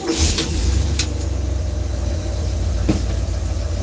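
A car engine idles steadily up close with a low, even rumble, a few brief clicks cutting through near the start.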